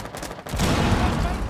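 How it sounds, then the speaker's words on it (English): Suppressed gunfire in the Rainbow Six video game, a dense rapid burst of muffled shots that starts partway in and continues loudly to the end. "Wait, I'm hearing silent shots."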